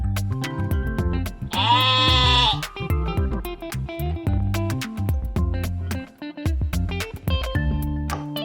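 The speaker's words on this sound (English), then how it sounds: "Sheep." A sheep bleats loudly and clearly in a wavering, drawn-out call with other animal-style sounds and music-like tones around it, heard up close with no talking.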